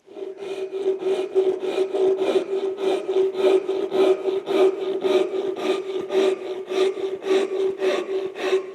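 Japanese ryoba hand saw cutting a wooden board with a two-handed grip, giving a rhythmic back-and-forth rasp of about two strokes per second, steady and close, with no speech.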